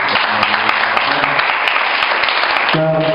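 A congregation applauding the Lord in a church gathering, with continuous close clapping and cheering, along with voices and sustained sung or hummed tones underneath.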